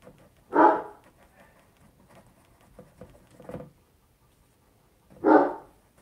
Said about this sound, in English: Some days he just like loves to bark at nothing